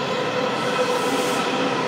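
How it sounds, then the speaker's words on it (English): A DC Metro subway train pulls into a station, heard as a loud, steady rumble and roar of the cars rolling in with faint wheel clatter throughout, no voices. "we have the Mount Vernon Square State train coming in from Franconia"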